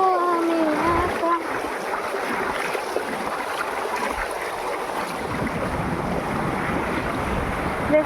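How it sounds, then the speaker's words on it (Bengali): Floodwater pours past in a broad, steady rush under gusty wind noise, with a few faint tonal whistles early on and no clear speech. "এই দেখো জল কি হারে যাচ্ছে দেখো"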